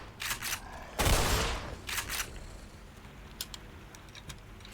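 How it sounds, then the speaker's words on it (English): A shotgun fires in the video game Black Mesa: one heavy, booming blast stands out among a few lighter shots, followed by faint mechanical clicks and clatter. "Shotguns get it done."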